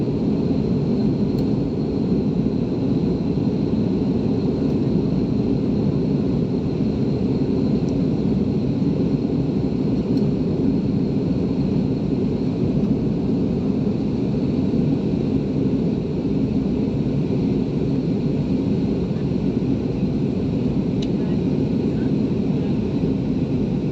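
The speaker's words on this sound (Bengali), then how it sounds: "এই বিমান নামতেছে এখন।" Steady, loud engine roar and rumble inside an airliner cabin as the plane comes in to land in Saudi Arabia, unbroken and even throughout.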